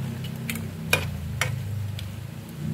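Shrimp being stirred with oyster sauce in a pan, a steady low sizzle with a few light scraping clicks of the utensil against the pan, close and quiet with no talking.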